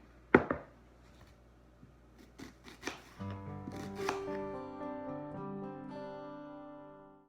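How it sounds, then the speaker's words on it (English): A knife chops red onion on a board in a home kitchen, a few sharp separate cuts at first, then a quicker patter of chops, faint and close, while music rises underneath toward the end. "now I'm going to do more chopping and finish up the rest of the onion"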